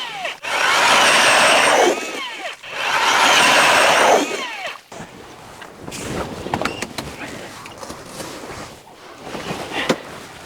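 An ice auger bores through lake ice in January inside an Eskimo ice-fishing shack, two loud grinding bursts of a couple of seconds each, followed by quieter scraping and clattering.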